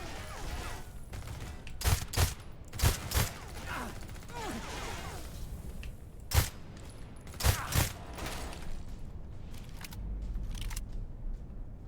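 Bursts of gunfire in a shooter video game, several short clustered volleys of sharp shots separated by quieter stretches of background game sound.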